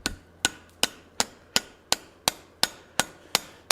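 Hot steel being forged over an anvil horn takes about ten sharp, evenly spaced hammer blows, each a bright ringing strike that decays quickly, with no talking.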